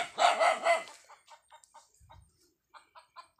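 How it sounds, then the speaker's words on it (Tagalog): Dogs bark outdoors, first in a loud close burst of several barks, then in fainter, scattered yips and barks further off. "Ayan oh, ibang aso na pong nakalagay dyan oh guys."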